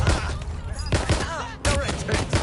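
Frag grenade blast and rapid gunfire in the video game Watch Dogs Legion, sharp bursts of shots and booms packed into a few seconds, loud and close, mixed with game sounds.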